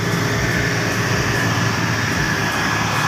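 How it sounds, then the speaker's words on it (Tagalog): XGMA motor grader reversing on a road subgrade, its diesel engine droning loud and close with a steady low throb and a faint periodic tick, no talk. "mamatras ang motor grader"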